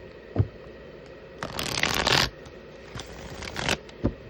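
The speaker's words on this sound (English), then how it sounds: "Three more shuffles for Esmeralda" Tarot cards being shuffled close up in a quiet room, with several bursts of riffling and a few sharp taps as the deck is squared, played out alone.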